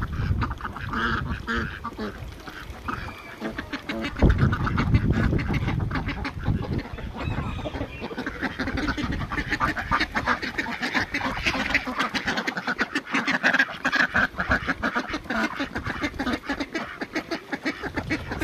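Ducks quacking steadily in a noisy, busy flock, the calls overlapping continuously at close range.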